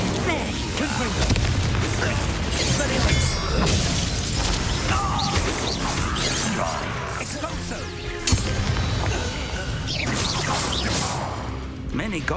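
Crashing blasts and shattering impacts from spellcasting combat in the video game Hogwarts Legacy, dense and loud over a rumbling low score, with a character talking over it.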